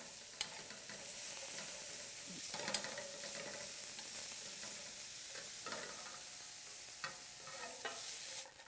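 Bacon sizzles in a pan as its fat renders, a soft, even frying hiss with occasional spatula scrapes and taps, and no voices.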